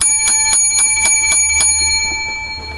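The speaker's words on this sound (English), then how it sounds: "So, seven lucky bells for this week's show." Lucky bells rung in quick succession, about seven bright metallic dings in a steady rhythm, loud and close, each ringing on before fading into a lingering hum at the end.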